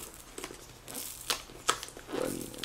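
Sticky packaging being torn and peeled away, with crinkling plastic and a few sharp ripping bursts, close and moderately loud, with no talking.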